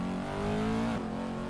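A 2020 Corvette C8 engine in a racing video game, revving as a loud continuous tone that climbs steadily in pitch, then briefly dips as the throttle lifts, with no talk over it.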